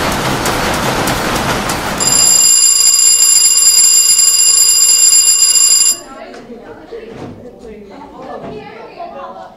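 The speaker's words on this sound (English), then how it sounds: "Just as the bell announced the end of the workday" A factory bell rings loudly and steadily for a few seconds in a reconstruction of the Triangle Shirtwaist Factory at the end of the workday, following a stretch of dense noise and followed by quieter background sounds.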